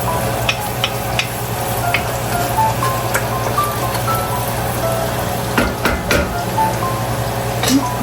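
Garlic sautéing in a pan for binagoongang baboy, a steady broadband sizzle heard close and alone, with a few sharp ticks and clinks of a utensil scraping the pan.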